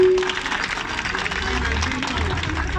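An audience at a neighbourhood assembly applauds a speaker from San Lorenzo Huipulco, a moderate, steady patter of clapping in a reverberant hall with a low hum beneath.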